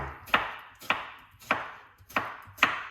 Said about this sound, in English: I don't need to show you guys how to cut the ingredients